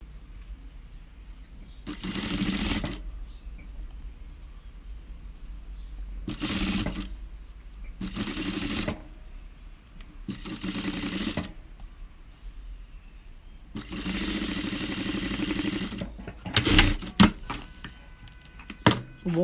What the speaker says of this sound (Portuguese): O bom é que você costura de um lado para depois costurar do outro